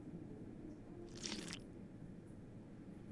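Drinking from a toilet in Fallout New Vegas, one brief wet gulping slurp about a third of a second long rising out of a quiet low room tone, faint and alone.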